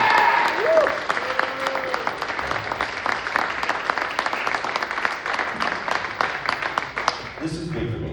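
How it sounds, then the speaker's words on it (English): Comedy club audience in New York applauds the other comics, a sustained wash of clapping with sharper individual claps poking through, and a voice talking briefly at the start and end. "Give a round of applause to the other comics who saw me tonight"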